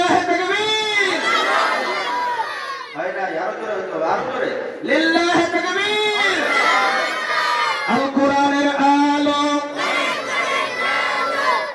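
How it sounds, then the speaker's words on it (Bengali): Crowd at a religious gathering chanting takbir in unison, loud massed voices rising in long sustained shouts that repeat in several waves, close and continuous throughout. "এবার তাকবির হবে"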